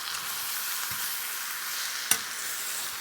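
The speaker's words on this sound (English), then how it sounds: "we're going to stir this in to get it cooking" Chicken biryani marinade stirred and sizzling in a pot over lowered heat, a steady close frying hiss with one sharp scrape of a utensil against the pot midway.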